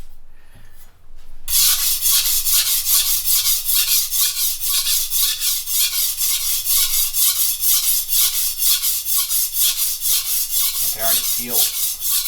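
A chef's knife with a broken tip is ground on a sharpening stone to form a new tip, in loud, steady back-and-forth scraping strokes repeated at a quick, even rhythm, with a voice speaking briefly near the end.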